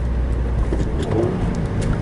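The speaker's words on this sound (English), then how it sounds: "I am just driving through Iowa City, being kind of obnoxious" A car with a turbo-back exhaust drives through Iowa City, its engine and exhaust giving a steady, close, rumbling drone with no voices.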